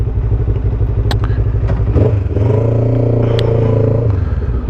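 Honda CB500 motorcycle engine riding through town, loud and close with a steady thrumming drone that drops and rises as it shifts gears, a few light clicks on top.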